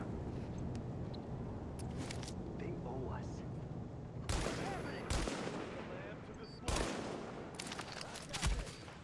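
Gunfire rattles in The Division video game, with bursts of automatic fire and sharp cracks over an ongoing combat background, while a player talks intermittently.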